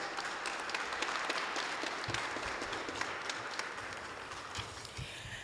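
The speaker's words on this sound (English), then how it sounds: "a round of applause to the" Audience applause at a Black History Month tribute event in Pittsburgh, a steady dense round of clapping from a sizeable crowd that holds for the full stretch, fading only slightly toward the end.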